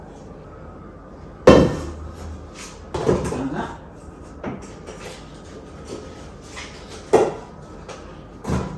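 Metal clanks and knocks as a pot is handled and set down, several sharp bangs spaced apart, with a voice speaking briefly.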